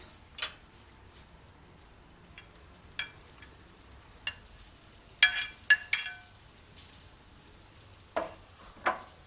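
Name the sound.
eggs frying in oil with food colouring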